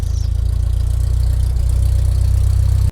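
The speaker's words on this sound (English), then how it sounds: "weather's getting quite ripe, so let's start up the engines." Aircraft engines start up in the GeoFS flight simulator game, a loud, steady low drone with a regular pulsing rumble that holds evenly for about three seconds before cutting off abruptly.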